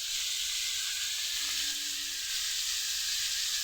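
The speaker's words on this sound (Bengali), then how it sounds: "ভেজে নিচ্ছি" Vegetables fry in a pan for masala pasta, giving a steady, close sizzling hiss that holds evenly throughout with no talk.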